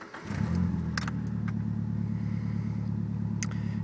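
Nissan S13 with an SR20DET engine cranks briefly and fires up, then settles into a steady, rumbling idle close by, with a few faint clicks and jingles over the engine and no talk.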